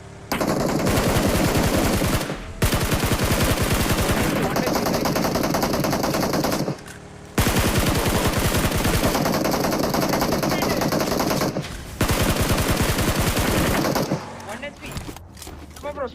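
Automatic gunfire from BGMI, a battle royale video game, rattles in long rapid bursts lasting several seconds each with short pauses between, loud and close, while players talk over the shooting.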